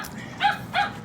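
A dog barks twice in quick succession, fairly close and loud, with a short pause between the barks and no talking.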